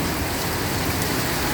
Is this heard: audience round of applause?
no